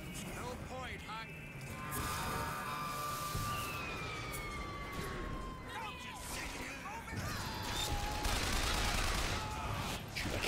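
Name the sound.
machine gun fire in the video game Bioshock Infinite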